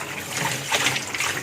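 Grape leaves lifted out of a bowl of water, giving a short close burst of dripping and splashing that swells briefly midway, with no voices.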